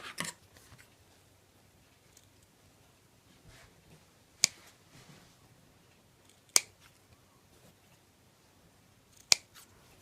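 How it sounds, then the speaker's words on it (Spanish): Pointed scissors snip a paper crochet pattern while cutting small notches, giving three sharp, isolated clicks spaced a couple of seconds apart in a quiet room. "Yo lo voy a hacer con las tijeras picudas."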